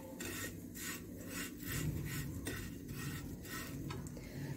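Vermicelli being stirred and roasted in a pan with a spoon, soft rhythmic scraping strokes repeating steadily at close range, quiet and alone.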